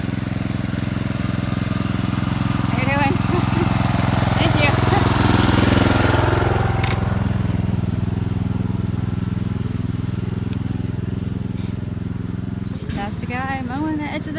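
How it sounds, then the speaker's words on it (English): A lawn mower drones steadily at the grassy edge of an Appalachian Trail hiking path, a loud continuous engine rumble heard close up, with brief snatches of speech over it. "Past a guy mowing the edge of the trail."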